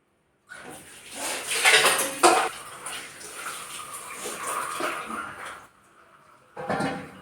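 Food is washed in a pot before cooking: water sloshes and splashes while the metal pot clanks and scrapes in bursts, then a pause and a final short rinse.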